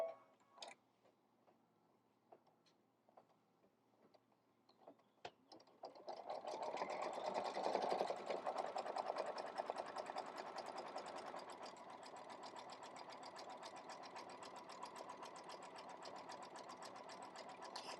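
A sewing machine runs a fast satin stitch over a seam joining hexagon quilt blocks, starting after a few light ticks and then whirring steadily and loudly at close range with no talk.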